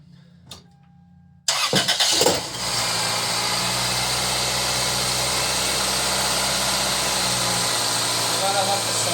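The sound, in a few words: Toyota Corolla car engine starting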